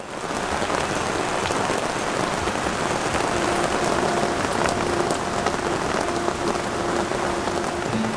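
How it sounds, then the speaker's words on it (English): Heavy tropical downpour in Costa Rica, dense steady rain drumming on surfaces with no break, loud and close throughout. "Shortly after arriving, we experienced yet another downpour."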